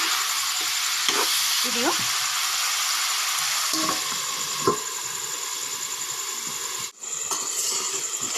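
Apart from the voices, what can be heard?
local chicken meat frying in oil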